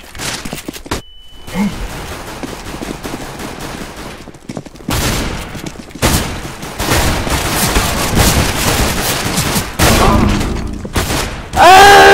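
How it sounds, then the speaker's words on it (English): A flashbang grenade goes off during a CS:GO match, followed by rapid bursts of gunfire and booms in a loud, dense firefight with a brief quiet gap early on. "Flashbang."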